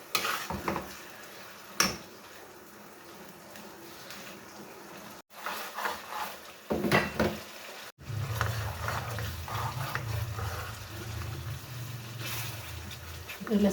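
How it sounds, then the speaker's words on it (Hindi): Garlic and ginger fry in a pan with a soft, low sizzle, punctuated by scattered clinks and scrapes of a utensil, and a steadier hiss taking over in the second half. "तो लहसुन और अदरक हमारा भून चुका है।"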